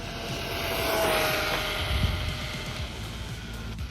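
A Rlaarlo X1 RC car runs at full throttle on a speed run, its electric motor giving a rising, sustained whine that swells as it passes and then fades away.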